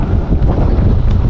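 Strong wind buffets the microphone aboard a hired boat, a steady roaring rush with no pauses for its whole short length.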